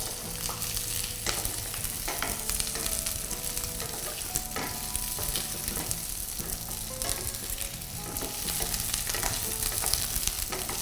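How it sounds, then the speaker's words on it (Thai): Mixed vegetables stir-fry over low heat for a seafood stew, a gentle ongoing sizzle punctuated by repeated spatula scrapes and clinks against the pan, close and steady without speech. "ผมก็จะผัดไปเรื่อยๆ โดยใช้ไฟอ่อนนะครับ"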